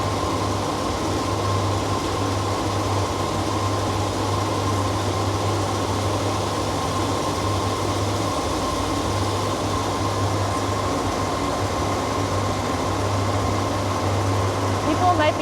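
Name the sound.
spinning machine with auto stop running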